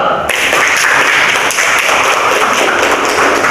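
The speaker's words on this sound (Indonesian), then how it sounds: "Tepuk tangan dulu." A primary school class applauds together, a loud, dense burst of clapping that fills the whole stretch without pause.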